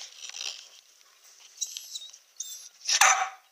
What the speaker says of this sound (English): There was a dog barking outside a minute ago